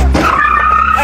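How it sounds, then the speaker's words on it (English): A car accelerating hard over a curb during a police pursuit, giving a loud, brief tire screech with a rising engine tone lasting about a second. "the vehicle quickly accelerated forward over a curb"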